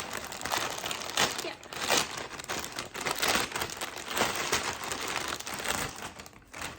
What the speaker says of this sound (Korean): 이렇게 이런 그냥 일반 비닐백에 담겨서 왔고요